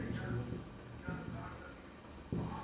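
Pen or marker scratches out a trigonometry equation in a class 10 maths lesson, short strokes with brief gaps, close and fairly soft under a teacher's steady speech.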